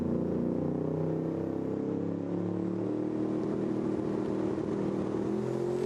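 Street Eliminator drag racing cars, a Comet and a GTR, idle and rev at the start line at the FIA European Finals, a steady loud engine drone with rising, rasping revs toward the end.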